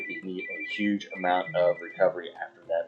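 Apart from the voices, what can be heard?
mobile phone ringing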